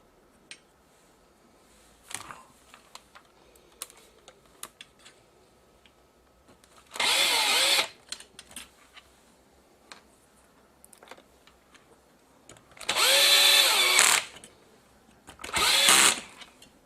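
Power drill backing screws out of the casing of a Technika LCD32-270 LCD TV: three short whirring bursts separated by quiet pauses with faint clicks and handling noises, close by.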